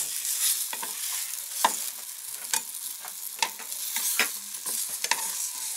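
Frozen pink salmon sizzles and crackles in a hot frying pan, with scraping and tapping as a spatula stirs and turns the pieces.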